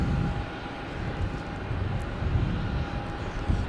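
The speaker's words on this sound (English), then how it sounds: "It's a Delta Connection Embraer" A Delta Connection Embraer E175 LR jet coming in to land at Logan Airport at night, its steady low engine roar continuous and moderately distant, with a faint constant tone riding above the rumble.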